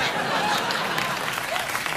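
Studio audience applause on a late-night talk show, a dense, steady roar of clapping that fills the whole stretch at close range without letup.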